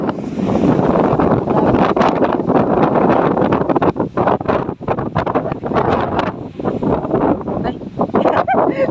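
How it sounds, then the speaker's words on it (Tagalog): Strong wind on a ride near Dingalan, Aurora Quezon, a loud, constant roaring gust buffeting the microphone with rough fluctuations, and people speaking faintly beneath it. "so ang lakas ng hangin."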